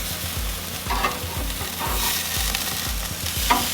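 Pork tenderloin sizzles on a Monument grill while being flipped, a steady loud hiss with repeated scraping and clatter of tongs and grate roughly every half second, no talking.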